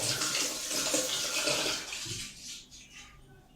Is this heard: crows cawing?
no